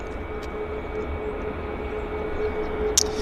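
A plane landing at Vancouver International Airport (YVR), heard as a steady, distant broadband jet roar with a faint tonal hum, fairly constant throughout with a brief sharper noise near the end.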